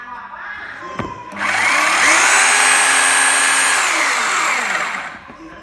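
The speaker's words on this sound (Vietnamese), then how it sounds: "Và chức năng khoan không." A Bosch GBH2-26 rotary hammer running in drill-only mode spins up with a loud, close motor whine, holds steady for about four seconds, then winds down.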